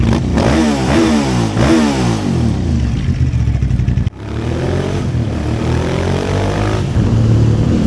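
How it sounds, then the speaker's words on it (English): A Japanese V-twin superbike engine runs close and loud, with repeated throttle blips sweeping up and down, a brief dip near the middle, then more revving. "Oh, this bike sounds so good."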